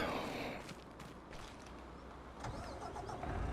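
A truck engine in Farming Simulator 25 cranks and catches, then settles into a low steady idle, close and moderately loud with no voices.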